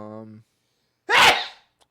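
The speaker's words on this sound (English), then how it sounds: "Imagine if I had another sneeze. That was timed perfectly." A single sharp sneeze bursts out after a short voiced sound and a pause, loud and close.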